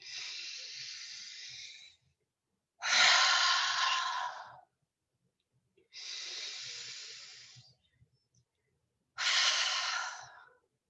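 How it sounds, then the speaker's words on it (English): Four slow, deep breaths during a guided meditation, long airy inhales and exhales alternating with silent pauses, close to the microphone and evenly spaced. "3 breaths. Inhale."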